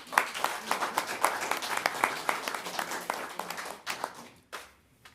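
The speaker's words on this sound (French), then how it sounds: "nous pouvons aussi applaudir cette création." Audience at a poetry and spirituality event claps for a rose creation, a moderate crowd of distinct hand claps that thins and trails off into a few scattered claps near the end.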